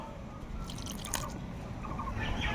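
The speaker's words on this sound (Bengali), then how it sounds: "এবার এতে পরিমাণ মতন জল দিয়ে দেবো" Water trickles and drips into a bowl of gram flour batter for village-style jackfruit pakoras, a soft, close, wet splashing that holds steady for a few seconds.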